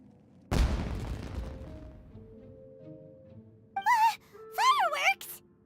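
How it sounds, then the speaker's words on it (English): A single loud firework blast booms in the Genshin Impact video game, its rumble fading over a couple of seconds before characters' voices speak. "Was that an explosion? It sounded like fireworks."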